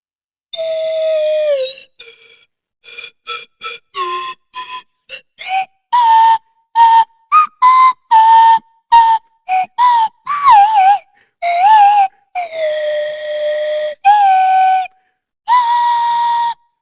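A slide whistle plays a string of short and long piping notes, some bending up or down in pitch, with brief gaps between them.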